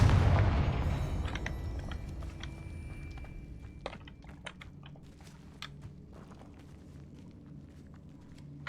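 A Confringo spell explosion in Hogwarts Legacy: a loud, low burst that fades over a second or two, followed by scattered sharp clicks and thuds as the rumble settles.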